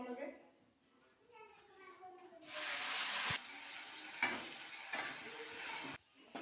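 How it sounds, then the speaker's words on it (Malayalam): Mustard seeds fry and crackle in hot oil for a Kerala buttermilk curry tempering, a loud steady sizzle with scattered pops that starts abruptly after someone speaks briefly, and cuts off near the end. "അപ്പം നമുക്ക് കടുക് വറുത്തിടാം. പൊട്ടിക്കാം."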